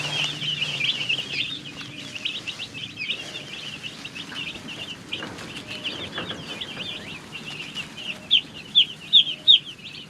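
Dozens of mail-order baby chicks cheep constantly in high, overlapping chirps while soft pecking taps sound up close, with a few sharper louder peeps near the end.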